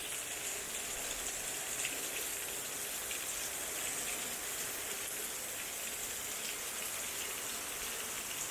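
Steady, dense rain in Cebu City, Philippines, hisses continuously on a surface, an unbroken wash of drops with no voices.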